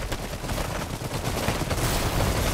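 Dense gunfire from diesel-punk RTS units in Iron Harvest, a continuous loud rattle of overlapping machine-gun and rifle shots with heavier bursts and a low rumble, no voices.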